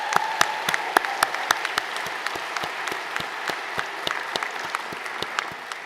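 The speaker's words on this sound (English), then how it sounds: "If we could just give them a round of applause." Steady audience clapping at the UCSF School of Nursing 2024 commencement, a dense wash of hand claps with a few sharper nearby claps standing out in a fairly regular rhythm.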